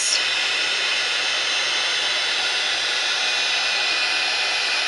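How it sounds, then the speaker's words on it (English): Old, long-used heat gun blowing hot air steadily onto regular cardstock, a loud continuous hissing roar that starts at once and holds level throughout, with no voices. "Yes, I know my heating gun is contraband, but I've had this one for years."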